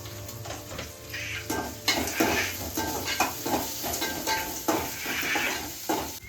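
Onions sautéing in a pan with salt and green chillies, a steady sizzle with repeated scrapes and stirring clinks of a spoon against the pan, close and continuous.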